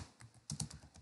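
Someone typing quickly on a computer keyboard at close range, a brisk patter of light key clicks with a few louder strikes.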